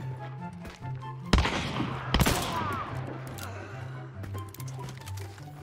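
Gunfire in the video game Hunt: Showdown, with two sharp, loud shots about a second apart and a fainter crackle afterward. Steady game music runs underneath and there is brief voice chat.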